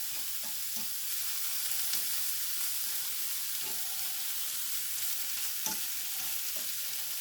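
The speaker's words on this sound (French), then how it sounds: "Je vais mélanger mes poireaux." Chopped leeks fry in a pan with a steady soft sizzle while a spoon stirs them in occasional scraping clacks, close and fairly quiet.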